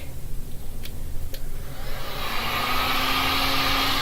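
A heat gun on high blows over a fresh resin pour. Faint taps and scuffs come first, then the steady whooshing roar switches on loud and close with a faint motor whine, holding to the end.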